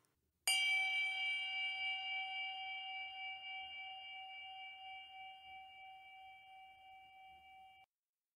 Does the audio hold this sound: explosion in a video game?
no